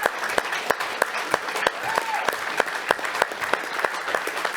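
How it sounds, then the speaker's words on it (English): A meeting room audience gives a round of applause for Shelter Cove and volunteer fire teams, a full, steady clapping with some sharper individual claps standing out and faint voices underneath. "I want to give you guys a round of applause."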